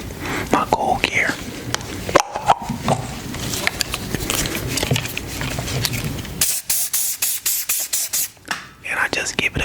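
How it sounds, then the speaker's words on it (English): A barber sprays Cool Care coolant onto hair clippers with repeated short hissing bursts in a close, intimate barbershop setting. Whispered talk runs underneath, and a quick string of rapid spritzes comes near the end. "Then I take my coolant, my cool care."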